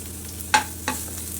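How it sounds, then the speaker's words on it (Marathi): Low, steady sizzle of onion frying in two spoons of hot oil in a pan for egg bhurji, with two brief louder crackles standing out from the hiss. "एका पॅनमध्ये दोन चमचे तेल घातले कढई तेल तापलेले आहे आता कांदा त्याच्यामध्ये घालायचा आहे"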